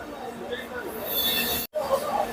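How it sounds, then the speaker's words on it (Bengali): The Doon Express passenger train runs slowly, heard from on board as a steady rumbling rattle with faint metallic squeals and a brief dropout near the end. "ট্রেনের গতি খুবই স্লো"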